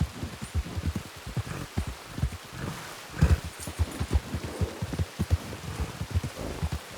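Rain falls in the Red Dead Redemption 2 video game, a soft patter under irregular thumping footfalls like hooves, with no speech.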